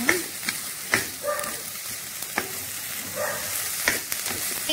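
Prawns and broccoli stir-frying with white pepper in a hot pan: a continuous close sizzle, with repeated sharp scrapes and clicks as the food is tossed.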